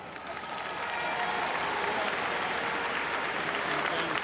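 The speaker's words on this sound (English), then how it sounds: "I'd like everyone to give them a round of applause" Crowd applause in Croke Park after an All-Ireland Premier Junior Championship final, a loud, broad roar of clapping that swells in the first second and then holds steady and dense throughout.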